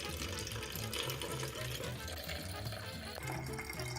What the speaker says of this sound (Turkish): Birazcık su koyuyorum.